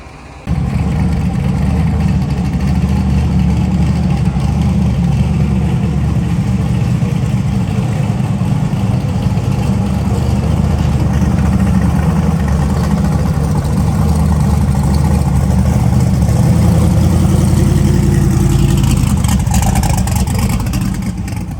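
Steady engine hum of small tow scooters idling and moving nearby as they pull cars through a trade show, a low continuous drone with slight revving, no voices.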